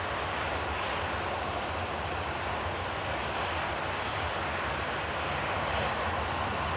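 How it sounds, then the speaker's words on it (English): A Ryanair Boeing 737-800 departs Manchester Airport for Malta, its engines a continuous broad loud roar that holds steady and swells slightly toward the end. No one speaks. "Ryanair to Malta going now."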